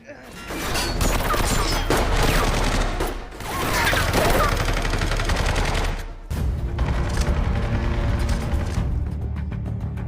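Sustained bursts of automatic gunfire and scattered shots fill a gun battle, loud and dense, with brief pauses between volleys and mechanical clatter mixed in.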